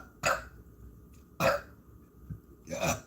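Three short throaty bursts, the kind of belching that gets treated as a spiritual answer, come close and fairly loud with quiet pauses between them. The second burst is followed by a softer, brief sound.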